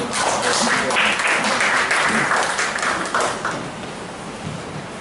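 Warm applause from an audience, a dense burst of clapping that swells over the first few seconds and then fades away.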